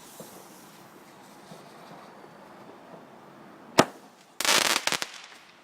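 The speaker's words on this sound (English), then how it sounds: "This one is apparently called a large comet bomb." A large comet bomb firework goes off outdoors on Bonfire Night: a single sharp crack, then a loud, dense crackling burst that quickly fades.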